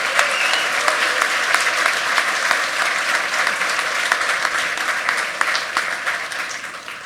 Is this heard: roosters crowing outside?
no